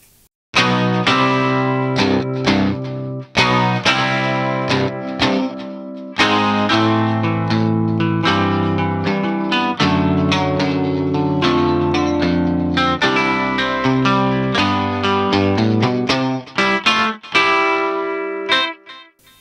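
A clean electric guitar from Native Instruments' Electric Sunburst Deluxe plays a rhythmic groove of plucked notes and chords, steady and upfront with light effects, no voices.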